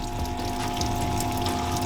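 Water bubbling and gurgling through a blocked engine waterway on a Toyota Celica ST-185 GT-Four, a steady, close, continuous pumping rush with no pauses.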